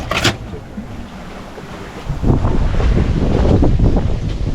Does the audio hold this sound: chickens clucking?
no